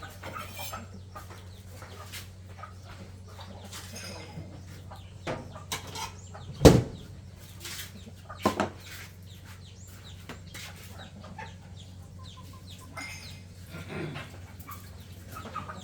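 Chickens clucking in a rural morning setting near a kitchen: soft scattered clucks and calls over a steady low hum, with a couple of louder close bursts.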